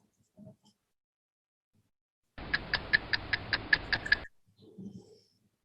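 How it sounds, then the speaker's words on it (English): A clock ticks in a quick, even series of about ten clear ticks, isolated between brief soft murmurs. "A timer of some kind, right? It could be a bomb or it could be a clock."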